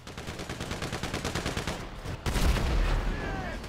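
Rapid gunfire in a GTA V shootout, bursts of repeated shots in a fast rhythm that swell louder midway and continue steadily to the end.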